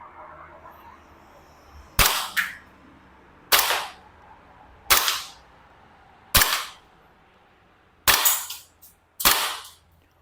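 Umarex VFC HK VP9 airsoft pistol fired at a target about 15 meters away, six sharp, loud, close cracks spaced a second or two apart, two of them in quick doubles, with no talk.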